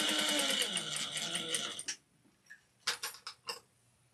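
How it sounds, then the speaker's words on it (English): A sewing machine runs in a steady rapid burst for about two seconds while making a wristlet, then stops. A few short separate bursts of stitching follow as it backstitches at a seam. "I get to the seam, I'm going to backstitch."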